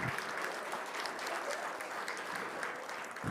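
An audience at a Hall of Fame ceremony applauds the 2000-2001 women's basketball team, with steady, even clapping filling the room and no talk.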